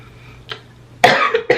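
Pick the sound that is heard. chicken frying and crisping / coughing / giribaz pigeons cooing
coughing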